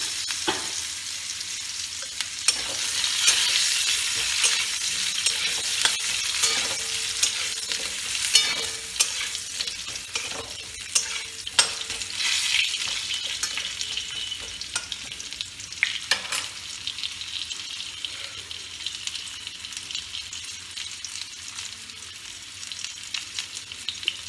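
Potato pieces fry in oil in the pan just used to fry snakehead fish, giving a continuous close sizzle broken by frequent scraping and stirring clicks, with no talk.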